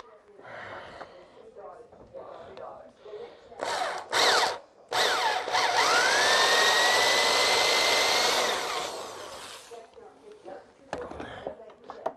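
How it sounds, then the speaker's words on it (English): An electric drill bores into cedar wood: a brief burst of whirring, a short pause, then a longer, loud, sustained whine that rises in pitch and fades out, with soft breathing and movement before and after. "I have to use an electric drill."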